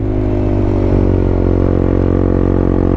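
A Honda CB150X motorcycle on a ride, its engine holding a loud, steady close-up drone with a faint rattle underneath, no voices over it.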